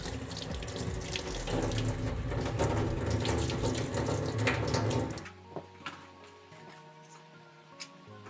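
Tap water gushes steadily into a sink while parts of a Nuova Appia coffee machine group head are washed, the flow stopping about two-thirds through, leaving faint drips and clinks.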